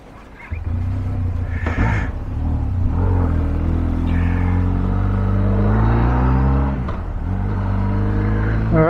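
Benelli TRK 502X motorcycles idling nearby, one engine revving up with rising pitch over a steady, close rumble that continues for several seconds before settling back down.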